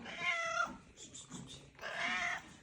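A cat meows twice in a barn on a snowy day, two clear drawn-out calls close by, separated by a brief pause with faint background noise.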